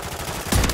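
Gunfire in the Call of Duty video game: a sudden loud burst of close shots erupts midway through, after a low, steady background rumble.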